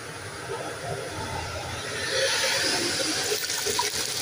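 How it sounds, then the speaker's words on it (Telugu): Water gushes steadily into a cooking pot for chicken and keeps pouring throughout, a continuous splashing hiss that grows slightly fuller partway through. "రెండు చెంబులు నీళ్ళు వేసి"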